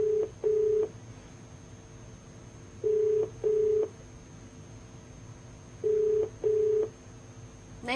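A telephone call being placed to a police official, with paired electronic ringback tones repeating in regular bursts about every three seconds over a faint steady hum, no voices.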